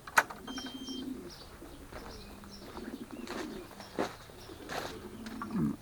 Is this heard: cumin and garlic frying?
no